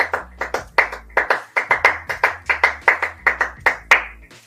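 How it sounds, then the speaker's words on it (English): Steady rhythmic hand clapping, roughly four claps per second, sharp and close, carrying on for several seconds with a low electronic hum or beat underneath and no talking. "So back to clapping, y'all."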